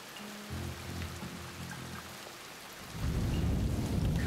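Steady rain and low rumbling thunder in the stealth game Shadow Tactics: Blades of the Shogun, a constant wash that swells louder and heavier partway through, with no voices.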